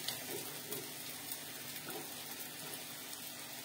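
Masala frying in an oiled kadhai gives a faint, continuous sizzling hiss that stays even and steady throughout, with no talking.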